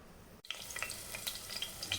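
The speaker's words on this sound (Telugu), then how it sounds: "నెక్స్ట్ అందులోకి మిర్చి తీసుకొని మంచిగా వేయించుకుందాం." Green chillies frying in hot oil for sambar, a broadband sizzle that starts abruptly after a brief silent break and continues close and steady, with small crackling pops scattered through it.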